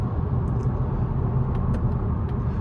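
A 2022 Mazda 3 Turbo Premium Plus sedan with a 6-speed automatic gearbox drives along, giving a steady low engine and road rumble heard from inside the cabin, with a few faint ticks over it and no talk.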